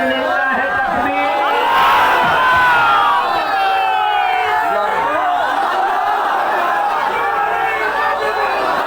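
A large crowd at an Islamic religious gathering (mahfil) in Satkhira roars a takbir chant in unison, a loud, dense swell of many voices that rises and then holds steady.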